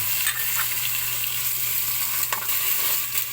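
Meat sizzles and spits in a hot pan with ginger and onion, a steady close-up frying crackle with small pops and light stirring scrapes, and no voices.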